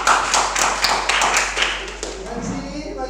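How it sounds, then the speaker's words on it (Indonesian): A classroom of students claps hands in quick, uneven bursts, loudest at first and thinning out, with voices talking underneath and over the end. "Oke, berikan tepuk tangan"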